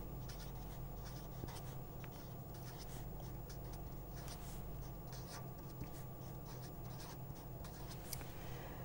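Chalk or pen scratches and taps out an equation on a board during a physics lecture, faint, intermittent strokes over a constant low room hum with no talking.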